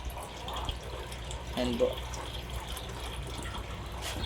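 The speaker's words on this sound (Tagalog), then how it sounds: "nagkapalit po tayo ng tubig, nagwa-water change po tayo" Faint running and splashing water during a water change in a koi and tinfoil barb fish tank, a soft steady wash under a brief spoken phrase.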